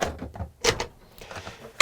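A large soft-closing kitchen drawer in a compact motorhome is opened and shut, a few soft thuds and sliding knocks with a dampened close and a final bump, near and quiet.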